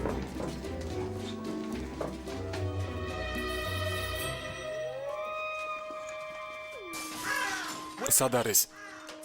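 A crow-like bird gives harsh cawing calls indoors during a TV drama scene, with people talking throughout and a louder burst of sound near the end.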